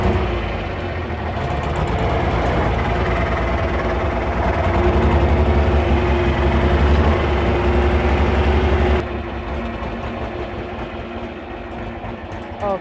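An old tractor engine runs loud and steady on its first test drive, a thick, rumbling drone that swells slightly and then drops to a lighter idle near the end.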